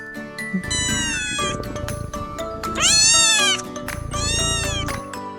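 A cat meows three times, drawn-out and fairly loud, with a steady musical backing playing underneath.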